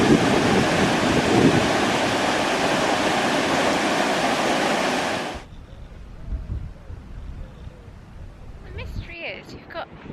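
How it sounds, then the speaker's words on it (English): Water roaring out of a lake outlet onto the beach at Loe Bar, Cornwall, a loud steady rushing for about five seconds that then cuts to quiet wind and faint outdoor noise. "So we can hear the water flowing through."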